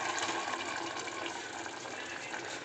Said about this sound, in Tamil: தேங்காவும் சோம்பும் அரைச்சி வச்சுருக்கோம்ல, அதை இதில் ஊற்றிட வேண்டியதுதான்